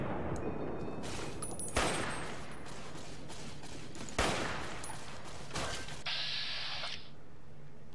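Gunfire rattles through a Fallout New Vegas battle: a couple of sharp, loud shots stand out over a continuous bed of rapid firing and mechanical game noise, with no talking.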